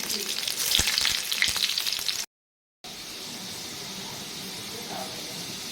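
Curry leaves and four cloves of lengthwise-sliced garlic sizzle in hot tempering oil for a besan pitla, a loud steady crackle with sharp pops, cut by a brief silent gap before the frying resumes more evenly.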